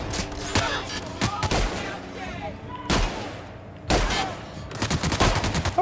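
Loud gunfire in the video game The Outer Worlds, several heavy blasts and short bursts spread irregularly across the stretch, each with a booming tail, with some speech in between.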